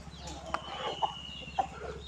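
Chickens cluck at a Thai temple, Wat Pong Chai, with a few soft short clucks and calls over a low steady hum, and birdsong faint in the background.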